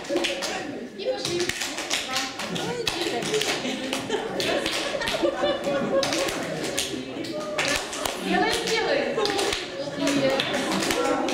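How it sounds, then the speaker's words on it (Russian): Hand claps during a spine-health exercise routine, landing as quick repeated taps through the clip under a person talking. "Так, теперь хлопок и меняем руки."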